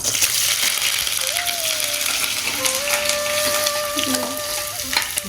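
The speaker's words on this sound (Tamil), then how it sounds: "ஒரு நிமிஷம் பெரிய வெங்காயத்தை இந்த கியூப்ஸை வந்து வதக்கிட்டு" Cubed onions sauté and sizzle steadily in a pan for a paneer capsicum gravy, with a constant close frying hiss, occasional stirring scrapes and some faint background voices.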